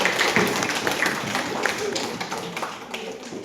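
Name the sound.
audience applause for a student named Putri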